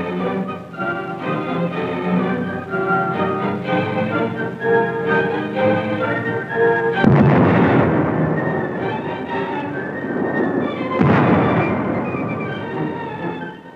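Gunfire during the siege of the Danzig post office, two heavy broadband blasts of artillery-like fire bursting over a continuous rumbling, mechanical din, loud and reverberant.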